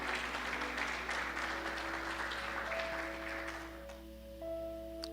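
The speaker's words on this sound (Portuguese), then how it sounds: "Pode aplaudir ao Senhor." A church congregation applauds during a sermon, sustained clapping from many hands that gradually thins and softens, with a low steady hum and faint tones underneath.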